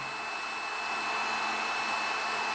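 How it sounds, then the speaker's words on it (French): A Parkside digital heat gun blows at a middle fan setting, giving a steady, even airflow whine with a faint tonal hum throughout and nobody speaking. "on peut toujours régler le ventilateur. On va le laisser au milieu pour le bruit."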